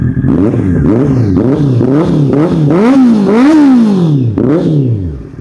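A Honda CBR650R motorcycle with an aftermarket exhaust revs repeatedly up close, deep throaty blips rising and falling in quick succession, ending in one longer high rev.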